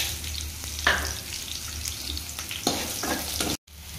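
Green chillies and peanuts sizzle in hot frying oil in a pan, a steady close crackle broken by a few stirring scrapes before it briefly drops out.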